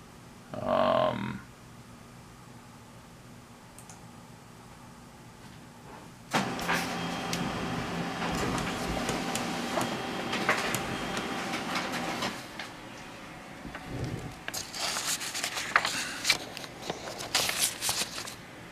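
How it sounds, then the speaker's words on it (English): Laser printer running a print job, a quiet whir at first, then a sustained mechanical hum and rolling feed from about six seconds with clicks and shifting motor tones toward the end, heard alone. "just do a print on my laser printer"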